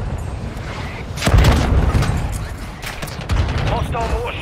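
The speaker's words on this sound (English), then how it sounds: "Mortar support incoming." Heavy booming explosions from a mortar strike in the mobile shooter Warzone Mobile, a loud close blast followed by further rumbling impacts and crackling gunfire, with voices talking over parts of it.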